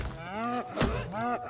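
Cows moo in the video game RuneScape Dragonwilds, two drawn-out, fairly loud lows in quick succession with nothing else around them.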